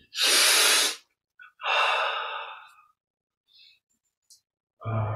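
Deep breaths drawn in and let out during a yoga and meditation session: a long, loud inhale, a pause, then a slower exhale, with a few faint breaths after and another breath starting at the end.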